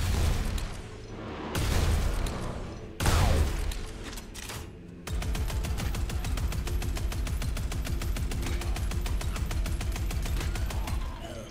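Gunfire in the shooter Postal: Brain Damaged: heavy blasts and booms at first, then a long, steady stream of rapid automatic shots, loud and close, with no talk.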